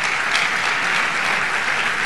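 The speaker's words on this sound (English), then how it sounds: "they deserve a round of applause." A convocation audience applauds lecturers, a dense, steady wash of clapping that stays loud and even throughout, with no talking over it.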